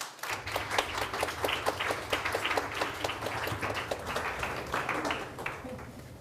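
An audience applauds to welcome Dr. Barry Awe, with dense, steady clapping from a moderately sized crowd lasting several seconds.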